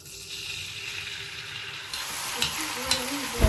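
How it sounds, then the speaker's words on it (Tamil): Maldive fish, a dried tuna, sizzling in hot oil in a pan. A steady faint crackle is broken by a few brief stirring knocks near the end. "எண்ணெய் சுட்டுருக்கு நாங்கள் மாசி கருவாடை போட போகிறோம்"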